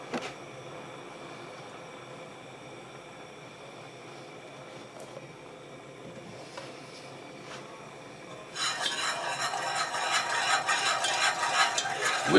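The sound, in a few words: whisking milk into pudding in a pot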